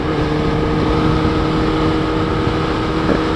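2012 Kawasaki Ninja ZX-10R with 57,000 km on it riding in third gear at about 80 km/h and 5,000 rpm, a loud steady engine hum mixed with wind rush, no voices.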